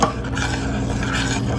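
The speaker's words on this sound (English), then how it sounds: "Now stir it." Milk with lemon juice is stirred in a pot to curdle it into paneer, giving a steady scraping, swishing stir of spoon against metal, close and continuous, with no talking.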